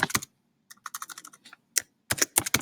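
Computer keyboard typing up close in short bursts of quick crisp keystrokes separated by brief silent pauses, loud and alone with no voices.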